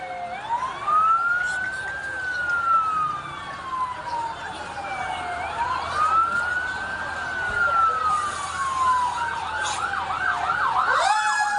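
A fire truck siren wails as it approaches a brush fire in Barangay Apolonio Samson, Quezon City, rising and falling in long sweeps over road noise, with rapid yelping bursts near the end.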